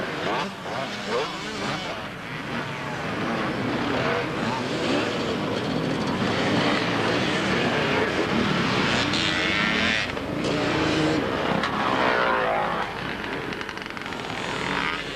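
Kawasaki 500 motorcycles racing on the sand at the 1992 Southport beach race give a loud, continuous blended engine roar that stays steady and dense for the whole stretch.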